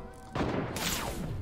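A sniper rifle fires in an online shooter game, a loud close blast with a sharp crack and a booming tail, followed by a second burst of gunfire.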